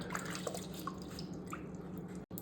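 Water drips and trickles softly as wet sandpaper is dipped for sanding a 3D-printed helmet, a faint continuous watery patter with small scattered drops.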